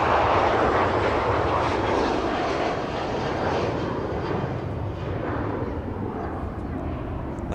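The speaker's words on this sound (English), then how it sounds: "Ryanair 737 outbound to" Ryanair Boeing 737 taking off outbound from Manchester Airport and climbing, a loud broad jet roar that stays strong and slowly eases as it moves away.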